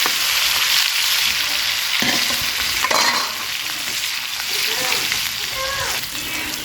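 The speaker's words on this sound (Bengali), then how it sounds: "আমি মাছটা একটু কড়া করে ভেজে নেব" Large pieces of fresh catla fish fry crisp in hot oil in a village kitchen, a loud, steady sizzle and crackle with occasional stirring clatter throughout.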